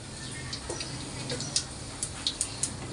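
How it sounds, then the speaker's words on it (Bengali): Cumin seeds fry in hot oil with a low sizzle, and a handful of small, sharp crackles and pops come through near the end. "জিরাটা একটু ভালো করে ভাজা হোক"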